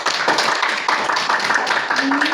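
Audience at a closing-speaker event claps together, a dense and steady burst of hand claps close by that keeps going the whole time, with a faint voice rising briefly near the end.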